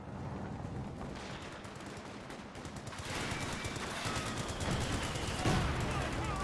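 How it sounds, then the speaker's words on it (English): Battle din from Company of Heroes 2: mortar impacts and rattling M1919 machine gun fire in dense, continuous bursts, moderately loud and blending into a steady roar of combat. "Good mortar hits onto that Panzergrenadier, and plus the 1919s were ripping apart as well."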